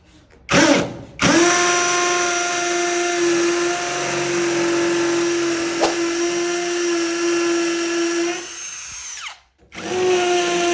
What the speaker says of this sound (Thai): พอได้ขนาดดอกสว่านก็มาเจาะเลย